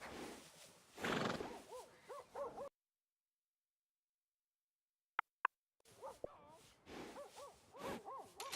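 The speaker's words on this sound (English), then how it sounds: "And a fine new horse." A horse in Red Dead Redemption 2 whinnies loudly at the start with clip-clopping hooves, then after a stretch of silence broken by two sharp clicks, it neighs again, closer and shorter.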